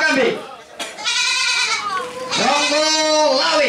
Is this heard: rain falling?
no